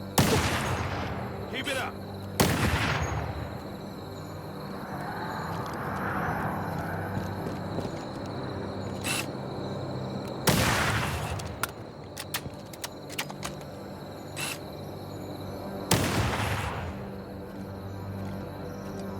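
Several loud, sharp bursts of gunfire spaced a few seconds apart in Halo: Campaign Evolved, with scattered smaller shots in between, under a low ambient rumble and a brief spoken line.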